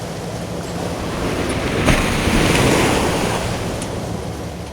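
Huge Arctic Ocean waves crash and roar off the coast of northern Norway, a loud, continuous surge with wind buffeting, swelling slightly in the middle.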